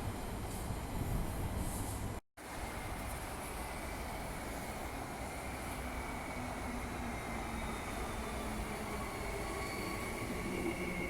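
A train rumbles steadily through Murdoch Station, a continuous low mechanical roar with faint metallic squeals and hiss, with one brief dropout near the start.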